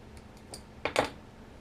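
Small cutters snipping copper wire ends while trimming a wire-wrapped barrel coil, a few faint light ticks followed by two sharp close clicks, no talking.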